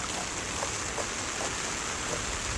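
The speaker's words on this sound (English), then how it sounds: "Got a little rain to fill it too." Steady, soft hiss of rain falling outdoors onto the liner of a backyard ice rink being built, faint and continuous with no breaks or voices.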